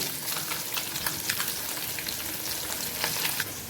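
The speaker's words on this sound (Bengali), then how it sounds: "এদিকে 4 পিস মাছ ভাজা হয়ে গেছে, কড়াইতে আরও 4 পিস মাছ আছে।" Katla fish pieces frying in oil in a wok give a steady, dense sizzle with scattered small crackles and pops throughout, close and continuous, with no voices.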